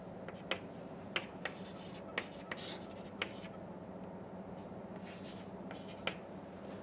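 Chalk or pen writing in a lecture hall, a series of faint scratchy strokes with sharp taps at irregular intervals over a quiet room hum, with no talking.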